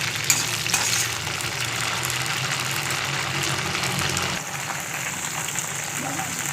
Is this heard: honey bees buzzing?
no